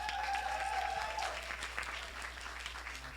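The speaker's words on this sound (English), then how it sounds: "Let's give him a round of applause." Audience applause at a film and art festival's spoken word night, a steady wash of clapping that holds for about three seconds and then thins out slightly.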